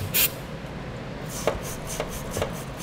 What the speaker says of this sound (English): use a wire brush to help clean out the threads